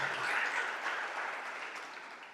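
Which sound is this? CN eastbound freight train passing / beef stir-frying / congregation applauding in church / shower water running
congregation applauding in church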